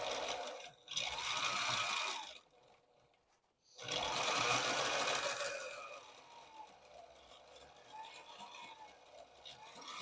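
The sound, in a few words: sewing machine stitching a tote bag seam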